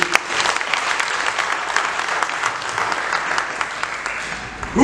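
A congregation at a church assembly applauds with dense, steady clapping from the start and keeps it up loud and close for several seconds.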